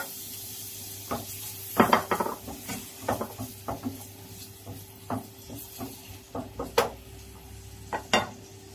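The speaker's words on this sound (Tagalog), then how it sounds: "igisa na natin ang ating onion" Onion sautés in oil in a pan: a quiet background sizzle broken by repeated close clacks and scrapes of a utensil stirring against the pan, irregular and fairly loud, with no talking.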